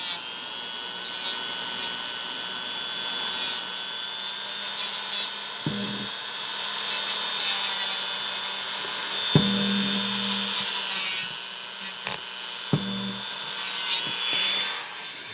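Sandpaper is rubbed by hand against a homemade RC car steering knuckle in a steady, close, hissing scrape, broken by a few soft knocks as the part is handled.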